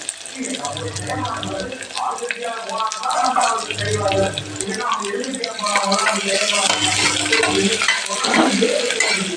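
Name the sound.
sliced big onions frying in a pan for biryani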